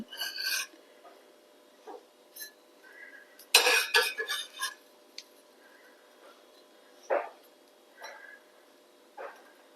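A sandwich toasting in a pan on low heat gets flipped: a few scraping, rasping strokes of a spatula against the pan with one louder clattering burst, then scattered short scrapes amid near silence.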